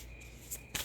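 Tarot cards being shuffled live by hand, soft quiet riffling with a brief louder snap of cards near the end, no talking.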